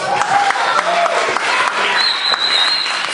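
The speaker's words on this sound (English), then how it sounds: "Big round of applause." A magic show audience breaks into steady, dense applause as a volunteer is called up, loud and continuous with faint cheers mixed in.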